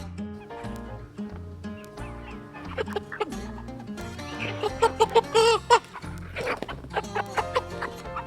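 A chicken being handled for processing clucks and squawks in short, agitated bursts that grow louder and denser toward the end, with a low steady background beneath.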